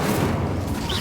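A fiery Incendio spell cast in the Hogwarts Legacy video game bursts out as a dense, loud roaring whoosh of low crackling flame that fills the moment steadily, with no pause.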